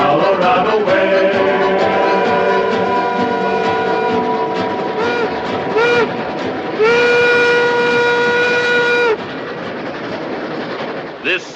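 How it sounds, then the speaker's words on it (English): A steam train on the Tomahawk and Western Railroad in the Colorado Rockies sounds a loud, sustained whistle in several long blasts over a steady rumble and clatter of rolling cars, with no talk. "here's the first train to go out over the high iron"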